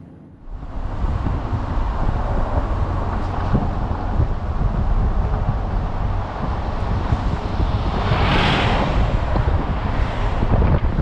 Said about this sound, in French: dehors il y a un vent énorme et on aura un bruit de fond incroyable